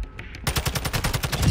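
Rapid automatic gunfire in the Call of Duty DMZ video game bursts in after a brief quiet moment, then runs as a loud, dense, continuous stream of shots to the end.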